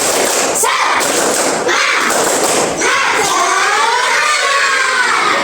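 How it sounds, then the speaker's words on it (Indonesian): A fourth-grade classroom of children doing a clapping chant together, with loud bursts of rhythmic claps and many young voices shouting in unison, the voices rising in pitch toward the end. "Coba tepuk semangat."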